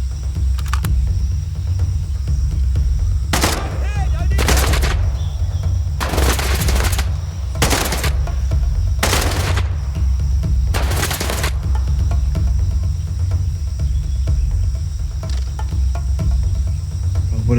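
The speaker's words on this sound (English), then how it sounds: "We're going guns blazing." Gunfire in the dinosaur survival game Ferocious: several sharp bursts of shots, some in rapid clusters, ring out over a constant loud drone of insect-like chirping and jungle ambience.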